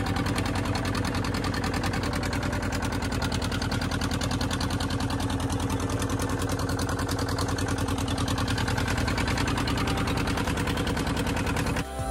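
A motor boat engine runs steadily and loudly on the Nagarjuna Sagar backwater, a constant droning hum with fast mechanical pulsing that holds for about twelve seconds before cutting off abruptly at the end.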